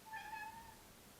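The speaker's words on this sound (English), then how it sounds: "My cat is hungry for dinner." A hungry cat waiting for dinner lets out a single drawn-out, tonal meow close by in a quiet room.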